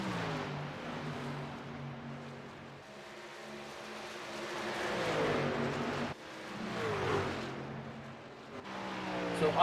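Race trucks roar around Kansas Speedway in an extreme truck series event, engines droning and rising in pitch as they pass, loud and continuous with some faint voice underneath.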